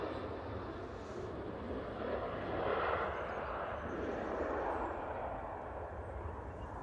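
A Ryanair airliner at Manchester Airport gives off a broad, steady jet roar that swells gently midway and then holds. The sound is heard from a distance outdoors, with no voices.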